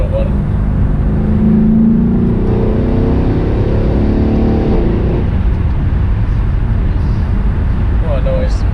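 A 679bhp Mercedes E63 AMG's engine pulls hard, its note climbing steadily for several seconds before settling into a rumbling cruise amid road noise, with a voice in the cabin.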